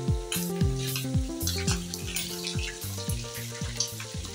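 Chicken gizzards, boiled first, deep fry in hot oil with a steady bubbling sizzle, partly buried under louder background music that carries on throughout.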